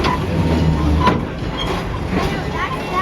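The Serengeti Railway train at Busch Gardens in Tampa rumbles along with a continuous loud roll and faint clacking, heard from on board under a speaker's voice.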